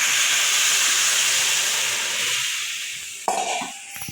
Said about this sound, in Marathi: उकळी आलेलं पाणी त्यात मिक्स करून घेऊ.